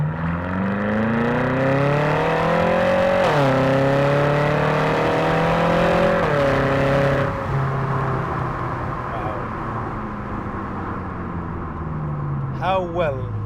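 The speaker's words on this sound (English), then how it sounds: "manually downshifting and manually shifting up, just to get a good sound out of the engine" BMW M5 engine revving loudly and steadily, pitch climbing and dropping as the gears are shifted manually up and down, with brief breaks at each shift and the drone fading at the end.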